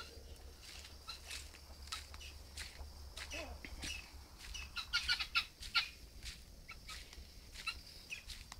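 Soft, low clucking from a brooding hen, a few quiet bursts with faint chirps around them in a calm, fairly quiet setting.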